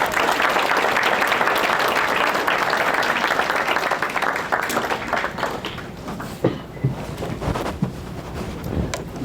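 Audience applause at a city inaugural ball, a thick burst of clapping that thins out over the second half into scattered individual claps.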